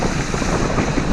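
Strong wind buffets a sailboat crossing Banks Strait in short, steep seas, a loud continuous roar of gusts across the microphone with water wash beneath, no talking.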